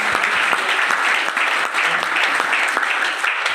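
Sustained applause from an audience at a training session, steady dense clapping filling the whole stretch at a loud, even level with no talk over it.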